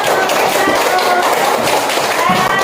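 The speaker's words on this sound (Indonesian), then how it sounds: "Beri aplaus." A classroom of students bursts into dense, continuous applause, loud and close, with voices mixed in beneath the clapping for the whole of its short span.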